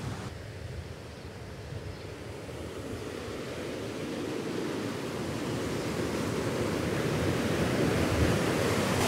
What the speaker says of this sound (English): this is the point where the water is at its fastest